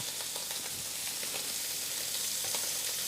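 Scallops sear in a hot pan with a steady, close sizzle and frying crackle that runs without a break and has scattered small pops, and no one talks.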